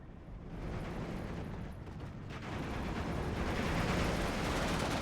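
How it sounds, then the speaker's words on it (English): Bombing run explosions in the WWII strategy game Steel Division 2: a continuous, dense roar of blasts and rumble that swells louder toward the end, with no talk. "Good bombing run"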